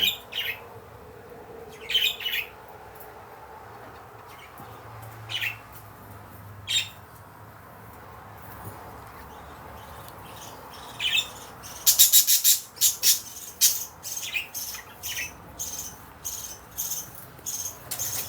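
Birds squawking and chirping outdoors on a hot day, sharp calls coming in scattered bursts and then a denser flurry of chirps, fairly close and distinct against a quiet background.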